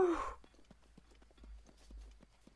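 A horse's hooves in the video game Zelda: Breath of the Wild give a soft, rhythmic clip-clop of evenly spaced steps after a brief breathy sound at the start.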